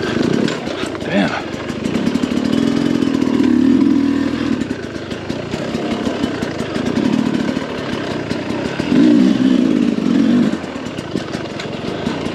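A 2022 Sherco 300 SE Factory trials motorcycle engine runs close by, a loud buzzing drone that swells and eases with throttle blips, with voices audible over it.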